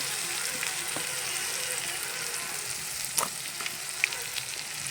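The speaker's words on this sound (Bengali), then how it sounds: "বেগুনটাকে হালকা ভাজা ভাজা করে নিব" Cut brinjal fries in mustard oil with a little turmeric in a kadai, giving a steady, soft sizzle with a couple of sharp clicks from stirring near the end.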